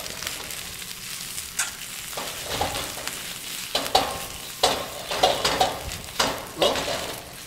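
Vegetables hit a well-greased, smoking-hot pan and crackle into a loud, even sizzle, with repeated clattering stirs and tosses growing busier toward the end, up close.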